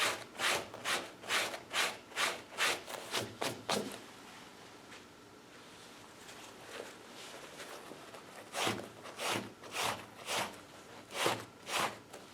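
A pocket knife scraping across a leather jacket being weathered, in two bursts of quick, rhythmic back-and-forth scratches separated by a quiet pause, close and fairly soft.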